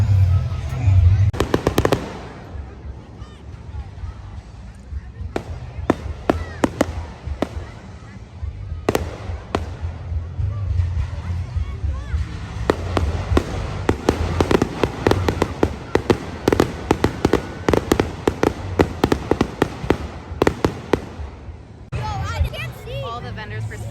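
Fireworks go off at night over an outdoor craft fair as vendors pack up. Sharp bangs and crackling bursts come in irregular clusters, some loud and close, while people talk and a crowd murmurs throughout.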